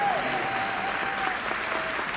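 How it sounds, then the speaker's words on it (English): Dense, steady audience applause at a talk on hemp extract health benefits, sustained clapping from a room full of people. "Okay, so round of applause for y'all."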